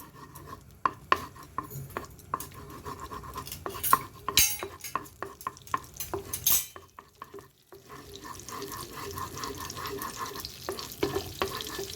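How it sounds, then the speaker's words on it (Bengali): Butter melting in a pan at the start of a cheesy chicken sauce, with soft clinks of a utensil against the pan and light stirring, faint sizzle in the background, no talking. "সসটা কিভাবে বানাই সেইটা দেখুন মাখনটা গলতে হবে"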